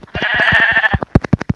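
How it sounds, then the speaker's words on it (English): A Minecraft sheep gives a sustained bleat, and a run of short, evenly spaced bleating pulses follows. It is loud and near, with no talk over it. "Bro, there's sheep everywhere."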